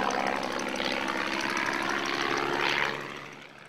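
A de Havilland Tiger Moth biplane's piston engine drones steadily in flight, a loud, continuous propeller roar from close by that fades slightly at the end, with no talking.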